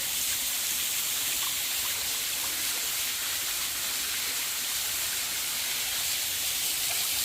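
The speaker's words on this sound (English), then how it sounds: "There are the springs just coming right out of the rock." Steady rushing water from springs flowing straight out of the rock at Raccoon Creek State Park, Hookstown, Pennsylvania, fills the scene: a constant bright hiss of flow with no voices or breaks.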